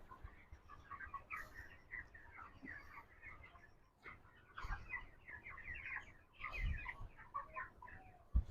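Broiler chickens cluck steadily throughout a poultry farm shed on litter bedding, many birds overlapping at moderate distance with a few louder bursts and low handling noise underneath.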